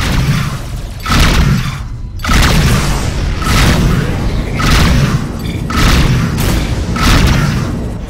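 Missile explosions from a space-combat game, Rebel Galaxy, strike during a rescue mission: a run of heavy booming impacts arrives in a regular rhythm roughly every second, loud and close, layered over a constant roaring rumble.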